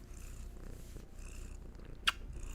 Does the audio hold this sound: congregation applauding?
no